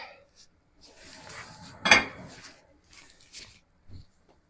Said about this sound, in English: Off comes the lid.